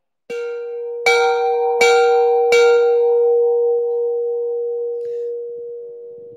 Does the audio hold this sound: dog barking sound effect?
no